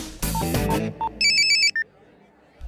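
A phone's electronic ringtone trills in a short burst of repeated bright tones right after a brief exchange of voices, during a scene of a woman borrowing a stranger's phone to place an urgent call in a shopping mall.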